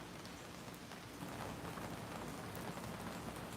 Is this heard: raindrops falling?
yes